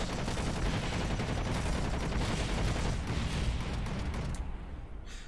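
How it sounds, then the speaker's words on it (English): Four guns mounted on an attack buggy fire together in Kerbal Space Program with BD Armory, making a continuous, dense roar that stops abruptly near the end. "all 4 guns set to the same group, same weapon group, just so the AI will fire them all at the same time as well"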